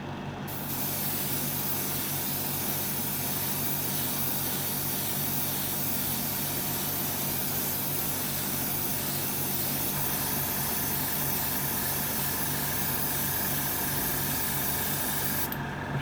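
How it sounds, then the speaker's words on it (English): Steady, continuous spray-paint hiss over a 1/6 scale Wonder Woman figure, close and loud for the whole stretch, with a slight shift in tone partway through and no voices. "let's spray her up"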